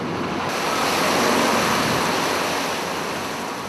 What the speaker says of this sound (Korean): 바람과 파도가 배를 향해 매섭게 몰아칩니다.